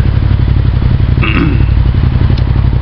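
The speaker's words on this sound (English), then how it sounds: "That's a really good motorcycle." A motorcycle engine holds a loud, rough, continuous rumble with rapid pulsing throb, close by, with a brief clatter partway through.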